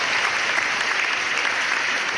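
A studio audience at a hip-hop music talk show claps steadily and densely throughout, a full, even wash of applause with no break and no voices standing out.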